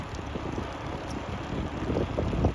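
Steady wind rush and low background noise during a mountain e-bike ride in the Dolomites, a continuous buffeting roar that rises slightly toward the end, with no talk.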